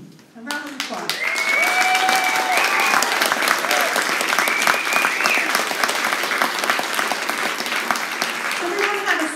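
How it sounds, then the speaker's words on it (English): A school music concert audience bursts into sustained, dense applause that fills the hall, with cheers and voices mixed in as it carries on steadily, and a person speaks briefly at the start and end. "A round of applause."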